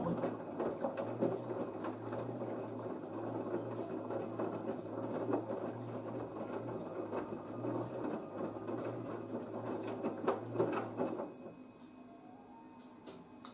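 An LG F1496AD DirectDrive washer dryer tumbles its drum on a 40°C sportswear cycle, a steady low mechanical hum with soft rhythmic patter of clothes that drops away near the end.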